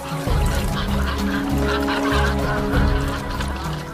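Cormorants kept by fishermen in Japan give a dense, continuous chorus of low, guttural honking calls, several birds overlapping close by with no pauses and no talking.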